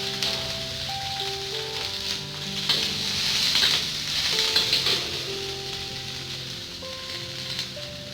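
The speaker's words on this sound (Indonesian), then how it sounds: "mulai menumis ya jadi ini adalah tumisan kering bawang putih dan cabai rawit daun bawang" Garlic, bird's eye chili and spring onion sizzling steadily in a pan during a dry stir-fry, a continuous crackling hiss heard close under background music throughout.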